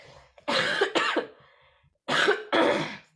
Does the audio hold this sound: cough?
yes